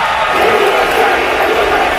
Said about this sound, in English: The crowd starts chanting USA.